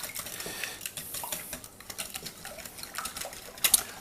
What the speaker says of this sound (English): Whisk it together.